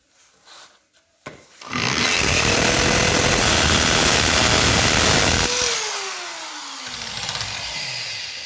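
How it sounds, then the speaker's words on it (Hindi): A power drill bores a hole into concrete for a drop-in anchor bolt, a loud steady grinding whine lasting several seconds, then winding down with a falling pitch as the bit slows and stops. "मैं आपको दिखाता हूँ कि मैं यहाँ पे ड्रिल करता हूँ इस हिस्से पे"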